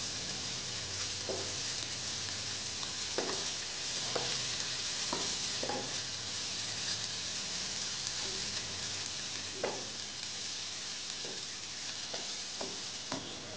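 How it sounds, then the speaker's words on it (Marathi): Ginger garlic paste and slit green chillies sautéing in oil, a faint steady sizzle broken by occasional clinks and scrapes of a stirring spoon. "इथे मी या उभ्या चिरलेल्या 4 हिरव्या मिरच्या घेतलेल्या आहेत, त्या देखील आपण परतून घेणार आहोत"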